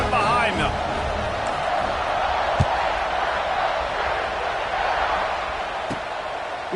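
A stadium crowd at kickoff in the video game College Football 26 gives off a steady, broad roar that holds at an even level. A commentator's voice and a couple of sharp thumps sit over it.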